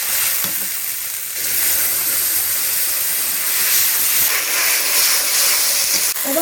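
Garlic paste hits hot mustard oil in a village-style kitchen pan, setting off a loud, continuous hissing sizzle that swells slightly and holds for several seconds, with no talking.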